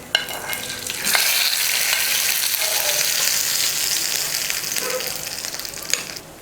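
Mustard seeds, urad dal and curry leaves sizzling in hot oil for a chutney tempering: a loud, continuous frying crackle close by, with a few sharper pops and no talk.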